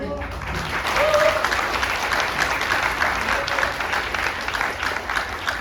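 Sustained applause from an audience at a Korean American political forum, steady and fairly loud throughout with a faint voice briefly audible under the clapping.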